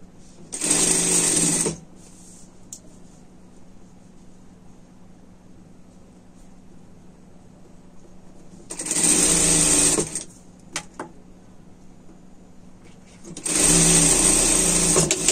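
A sewing machine stitches a seam on a sweater in three loud, steady whirring bursts, each one to two seconds long, separated by quiet pauses with a few faint handling clicks.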